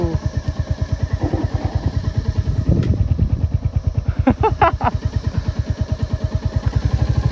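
Motorcycle engine thumping steadily and close while a bike is ridden and turned on a rough, dead-end track, the pulsing beat continuous throughout with a brief vocal exclamation about midway.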